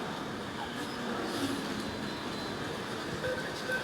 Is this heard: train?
yes